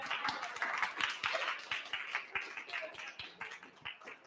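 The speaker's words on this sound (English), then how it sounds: "Usually people clap at that part." Audience applause at an evening talk in a poster art museum, a steady spread of many hands clapping at moderate distance, with some voices murmuring underneath.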